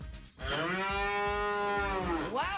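A single long, loud cow moo with strong harmonic tone, holding steady for about two seconds before bending upward at the end, heard alone after a brief pause.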